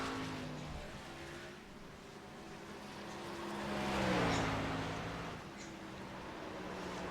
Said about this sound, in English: that is a lap of Watkins Glen in a cup car